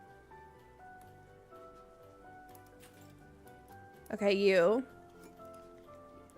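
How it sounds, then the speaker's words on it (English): Soft, continuous rain patter from the Loftia video game, faint and steady under background music, with a brief spoken voice partway through. "It still sounds like rain"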